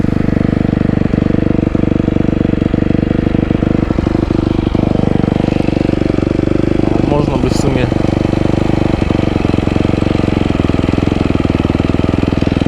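A Yamaha YZF 250 motorcycle frame fitted with a V8 engine idles steadily at a constant low rev, loud and close, with a rough mechanical rumble that holds throughout.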